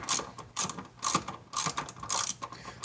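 A ratchet clicks in quick, rhythmic bursts while backing out 12 mm bolts under a 2016 Toyota Tundra crew cab during a running-board install, close and alone without talk.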